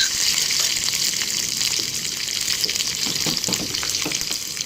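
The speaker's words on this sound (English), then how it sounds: "as it begins to sizzle, add the curry leaves" Crackling, spitting sizzle of curry leaves dropped into hot oil for a tadka, loud and close, with bursts of popping over a steady frying hiss.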